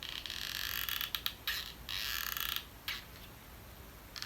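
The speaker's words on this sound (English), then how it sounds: "Everything makes noise, even the glue gun." Hot glue gun creaking in use while fins are glued onto a tin can guitarfish craft instrument, a series of short dry creaks and squeaks in uneven bursts, close and fairly quiet, with no talking.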